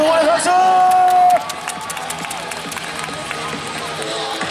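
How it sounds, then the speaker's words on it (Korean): Spectators cheer and applaud during a women's 3000 m relay final at a short track speed skating World Cup in Seoul, a loud sustained crowd roar with a whistle-like tone early, then steadier broad crowd noise. "응원의 박수!"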